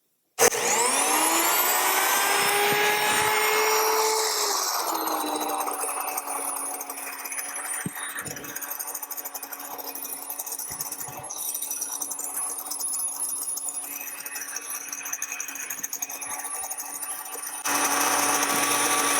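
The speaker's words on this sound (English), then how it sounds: "So I'm going to mill. It's going to be loud for just a second." Electric grain mill grinding whole wheat into flour runs as a loud, continuous high-pitched whine that shifts in tone as grain feeds through, steady for nearly twenty seconds with no talking.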